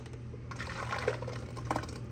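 Buttermilk poured from freshly churned raw-milk butter through a colander into a bowl, a soft continuous liquid trickle and splash close by.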